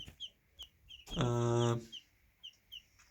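A chicken gives a loud, drawn-out cluck in the middle, with short clucks from nearby hens scattered before and after.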